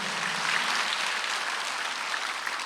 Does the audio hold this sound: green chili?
no